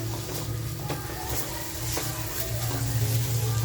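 Malvani crab leg chutney sizzles steadily in a hot pan, with occasional utensil scrapes and stirring against the dense, continuous frying hiss close by. No voices are heard.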